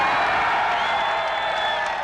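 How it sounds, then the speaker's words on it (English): Applause from a crowd after the Hungarian foreign minister announced the border would open at midnight, a steady wash of clapping and faint cheering, sustained and even throughout. "As the applause died down"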